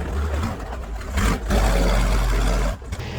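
A tractor scraping and grading a dirt road near an off-grid cabin, its engine rumbling low and steady close by, with a louder surge midway and a brief dip near the end.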